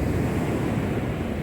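Sea waves washing onto a beach at Corton at high tide, a continuous loud rushing surf with wind noise buffeting the microphone, no voices.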